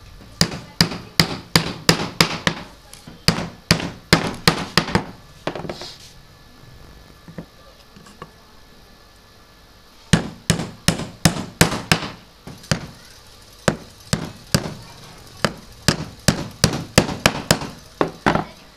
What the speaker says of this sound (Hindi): कील लगा लेते हैं, मैं आपको ये 1/4 इंच वाली कीलें लगा लेनी है।